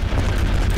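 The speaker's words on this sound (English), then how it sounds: "Take him out with the fire barrel." A fire barrel exploding in the video game Heavy Fire Afghanistan, a short, loud, low rumbling blast heard close up.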